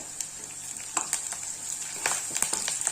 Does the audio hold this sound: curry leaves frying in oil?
yes